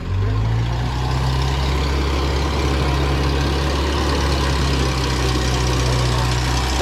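A Bobcat skid steer with a freshly rebuilt motor idles at an auction, a steady, loud, low diesel drone with a slight knocking texture, running close by without pause and with no voices.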